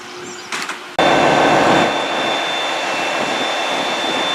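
A Great Western Railway train in Devon rumbles steadily and loudly close by, with a sustained whine over broadband noise after a brief clattering start.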